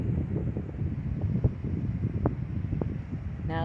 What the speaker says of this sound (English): Now the wind is starting up.